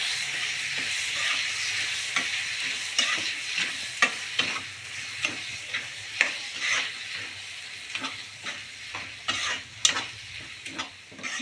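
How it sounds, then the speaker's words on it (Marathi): Washed rice is stirred in a hot pan on high heat while making tomato rice, giving a steady sizzle and frying hiss broken by repeated scraping, clinking spoon strokes, close and with no talk. "तर आता त्यामध्ये आपल्याला तांदूळ टाकून घ्यायचा आहे स्वच्छ धुतलेला. आणि त्याला मस्त हलवून घ्यायचं आहे."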